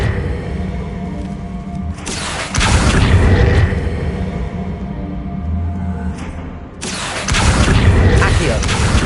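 Bombarda spell blasts in Hogwarts Legacy, two heavy booming explosions with broad crackling bursts amid ongoing game sounds and a voice.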